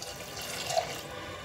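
A glass of water is poured into dal with green chillies, salt, turmeric and chopped onion, ahead of pressure cooking. It makes a short, gentle splash of moderate loudness and stands alone.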